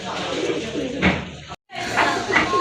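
Jacobin pigeons coo close by in a bird collection, with a short dip to silence midway and people talking over the soft, repeated calls.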